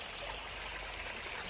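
Forest waterfall water flows in a steady, dense wash of broadband rushing noise, close and continuous throughout with no voices.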